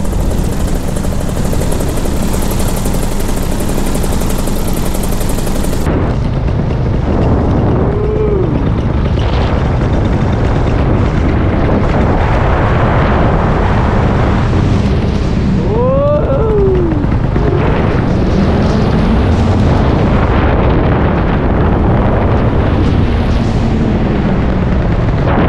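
Paramotor engine and propeller in flight during a cross-country mountain flight near the ridge of Mount Timpanogos, a loud continuous droning roar with heavy wind buffeting at the start, no voices.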